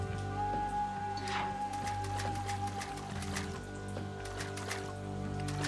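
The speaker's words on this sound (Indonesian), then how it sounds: "Mana tempatnya hujan mulu ya kan?" Steady rain falls in a Naruto Shippuden Ultimate Ninja Storm 2 game scene, a constant patter with scattered drop taps over low droning game music, no voices.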